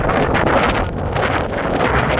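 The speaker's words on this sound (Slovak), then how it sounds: "A fúka vetrik." Strong wind blows across a sandy beach and buffets the microphone with constant loud, gusty rumbling and roaring throughout, with no voices.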